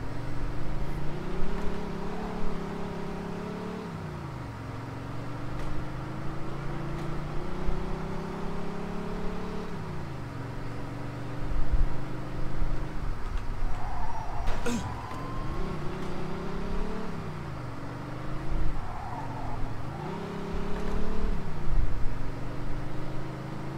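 Car engine in Mafia 2 revs and drones steadily throughout, pitch rising and falling as the vehicle speeds along, with a few brief bumps and surges, no talk over it.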